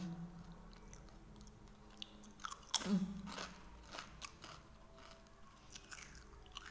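Someone chews a crunchy whole-grain flour snack, producing close, soft repeated crunches and bites with one sharper crack, quiet and intimate with no talking.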